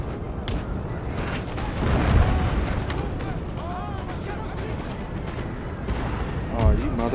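Artillery fire in Napoleon Total War, with heavy booming cannon shots and battlefield rumble rolling under a voice; two strong blasts stand out near the start and end of the passage.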